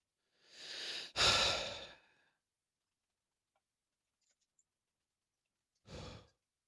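A narrator imitates heavy breathing with a long, loud sighing inhale and exhale, then falls silent before one shorter breath near the end.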